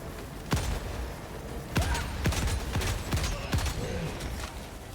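Helldivers 2 gunfire sounds as several sharp, separated shots, fairly faint and spaced irregularly over a low rumbling battlefield background.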